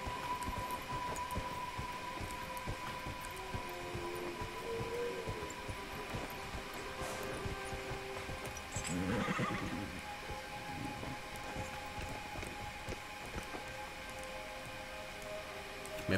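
In a fantasy video game, a horse gives one clear whinny midway through, set against a steady ambient drone with faint hoofbeats.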